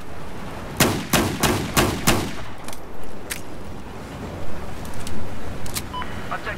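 Frag rounds fired in the video game Battlefield 4, heard as a quick volley of five sharp, loud blasts followed by a couple of scattered later shots over rumbling background noise.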